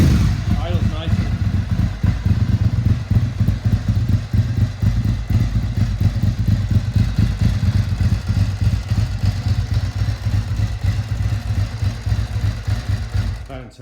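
Ducati 851 Strada custom motorcycle idling, a steady loud close engine rumble with fine clattering texture throughout, and people talking over it.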